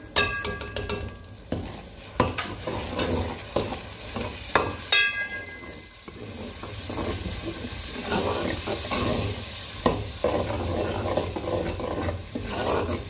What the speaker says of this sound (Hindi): थोड़ा सा 1 मिनट तक इसको हम भूनेंगे।